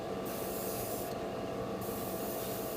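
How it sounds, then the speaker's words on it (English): Varnish sprayed in a light mist coat onto the surface of a large-scale Gundam RX-78-2 plastic model: a steady, continuous close hiss with brief bright bursts as the nozzle is pressed, no talking. "This just gets some varnish on the surface and gives the next coat something to grip onto."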